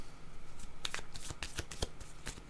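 Playing cards shuffled and handled during a French card reading, a run of crisp riffling flutters and soft slaps close by, with no talk.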